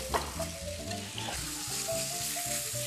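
Food shallow-frying in a generous amount of oil gives a steady, soft sizzle throughout, sitting under a tonal background layer with no one speaking.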